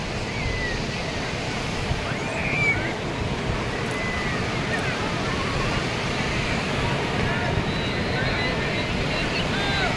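Sea waves washing onto the beach at Digha at low tide, a continuous broad surf roar with wind buffeting the microphone, steady and fairly close.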